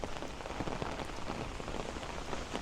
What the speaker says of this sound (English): this rain is going to stop soon